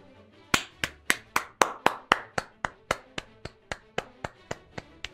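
Steady hand clapping, about sixteen sharp claps in an even rhythm, close and fairly loud with no talking.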